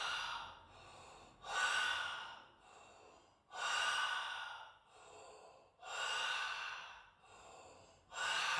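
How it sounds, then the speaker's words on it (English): Heavy breathing through the mouth during an intense toe squat pose: slow, deep alternating inhales and exhales, four loud breath cycles with audible rasp, close and alone without talk. "breathing full on through the mouth."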